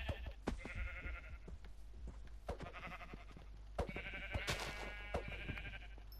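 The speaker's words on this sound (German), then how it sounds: "Schaf!" Sheep in the Minecraft video game bleat repeatedly, several short wavering calls coming in bursts over a quiet game background with soft footstep-like clicks.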